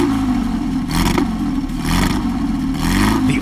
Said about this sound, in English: The sound of the Spyder is unmistakable.